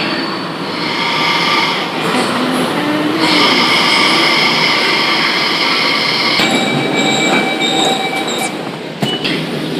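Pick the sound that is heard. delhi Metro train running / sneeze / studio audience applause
delhi Metro train running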